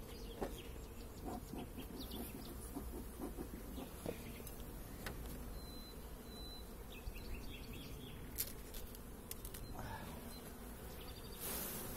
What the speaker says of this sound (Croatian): Dosta pčele vani izašlo.